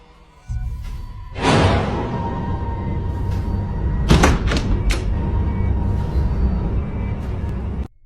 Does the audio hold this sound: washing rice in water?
no